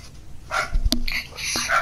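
Dog barking inside the GTA 5 video game, a few sharp yelps and barks mixed with game sounds and impacts, fairly loud and close, with voices over it.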